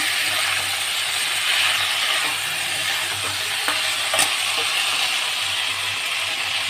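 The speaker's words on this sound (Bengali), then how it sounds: "আগে কষে নিচ্ছি পটলটা দিয়েছি বলে আর একটু কষে নেব" Pointed gourd sautéing in a hot pan, a steady loud sizzle with scattered scraping stirs of a spatula, close and continuous, no talk.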